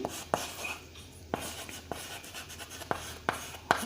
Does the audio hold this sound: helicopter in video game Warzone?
no